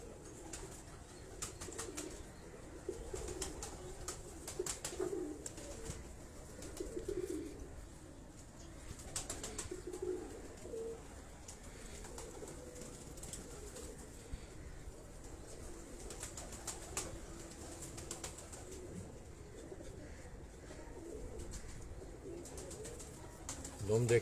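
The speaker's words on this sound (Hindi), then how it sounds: "अब ये जो कबूतर आप देख रहे हैं" Pigeons of a bred flying line coo softly in a loft, low repeated burbling calls rising and falling at moderate distance amid faint rustling and occasional wing or clatter sounds, with someone talking nearby.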